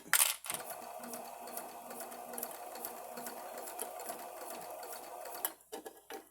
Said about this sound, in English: So I'm back stitching there, so I've got a good anchor there.